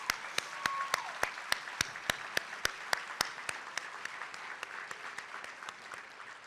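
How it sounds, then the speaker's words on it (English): Audience applause at a Boys and Girls Club Youth of the Year ceremony in Tacoma, a steady wash of clapping from a crowd with sharp, regular louder claps standing out near the front, fading slightly toward the end. "Please give them all a round of applause."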